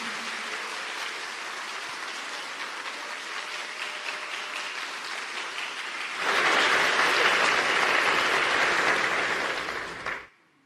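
A congregation at a church service claps continuously, first moderately, then swelling into louder applause before cutting off abruptly.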